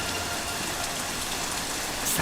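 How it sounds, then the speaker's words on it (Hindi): Heavy rain pours steadily in a dense, unbroken hiss, with no voices over it. "अब बहुत बारिश हो रही है।"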